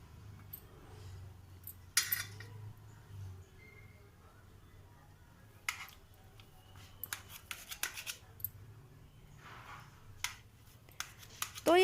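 A knife cuts through a block of paneer with a few sharp scraping taps and clicks against a board, brief and close, over quiet room noise.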